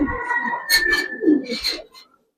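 Pigeons in a loft coo softly and close by in a few short bursts with a faint chirp, then the sound stops.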